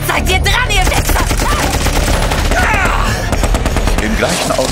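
Gunshots fire in a radio drama shootout, a loud rapid volley of overlapping shots crackling continuously, with voices mixed in beneath.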